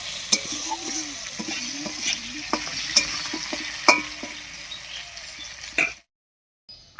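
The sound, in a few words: potatoes frying in mustard oil, being stirred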